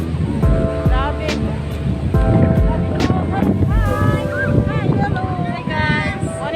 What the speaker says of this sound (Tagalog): Grabe kahangin guys